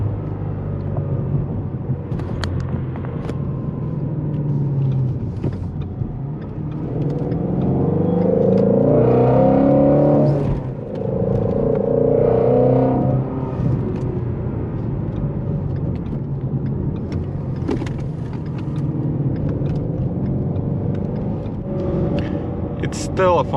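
A stock Ford Shelby GT350 engine revs in sport mode, rising to a loud, sustained roar in the middle and then easing back, with road rumble and cabin noise throughout and talk over parts of it.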